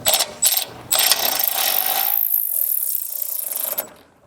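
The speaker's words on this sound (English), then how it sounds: "you'll need a 4mm hex to tighten these up and kind of draw this tray back" A hex key tightens rock slider bolts on a Ford Ranger, making a few quick ratcheting clicks in bursts, then a longer scraping, grinding rasp close to the microphone.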